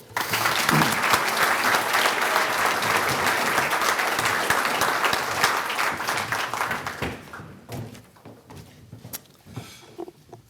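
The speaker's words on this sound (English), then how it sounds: "Please join me in a warm round of applause." A big room full of people at a luncheon clapping loudly and steadily, then the applause thins out into scattered claps and fades toward the end.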